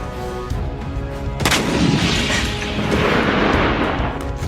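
Explosions from Israeli missile strikes in a conflict area, heard as a loud, sustained broadband roar with a sharp burst about a second and a half in, followed by continuous rumbling blasts and crackle, with no talking.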